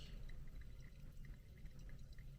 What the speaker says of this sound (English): And I'm just going to slowly pour